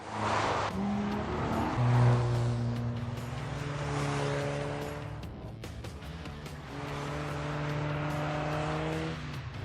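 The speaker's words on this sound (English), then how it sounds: "So I decided we should have a drifting competition." Cars drifting on a narrow go-kart track in The Grand Tour game, engines droning in steady sustained tones with shifting pitch and a rough, tire-scrubbing edge throughout, fairly close and continuous.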